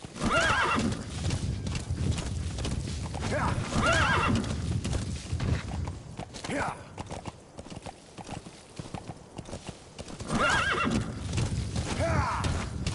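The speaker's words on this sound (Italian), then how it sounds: "Il cavallo è molto bello, per esempio." Horse neighs and clip-clopping hooves from Metal Gear Solid V, recurring whinnies in bursts near the start, around four seconds and again near the end over steady hoofbeats, loud and close, with no talk.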